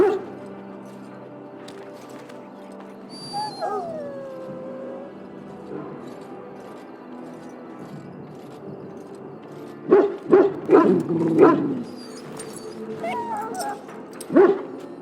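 A dog in the video game Dragon Age: Origins whimpers and barks in several short bursts, with a louder cluster of yelps near the end over a quiet background.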